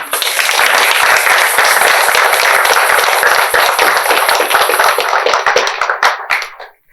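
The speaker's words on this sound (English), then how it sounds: "Can we applause for them?" Audience at a book launch applauding, a dense, steady burst of clapping for several seconds that thins out and stops near the end.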